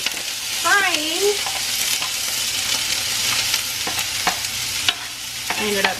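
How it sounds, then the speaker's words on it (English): Onions dropping into hot oil in a pan, giving a steady frying sizzle with brief stirring clatters and a few short voice-like tones over the hiss. "So I'm gonna go ahead and get the onions into the pan here, because I can already smell my oil is frying."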